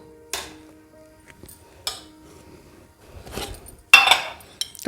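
A kadhai is set down on a gas stove with a few sharp metallic clanks and rattles separated by quiet gaps, the loudest knock coming near the end.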